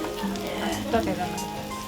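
Vegetable chops deep-frying in oil, a steady dense sizzle throughout with a brief louder bubbling flare near the middle, close by and partly layered with background voice.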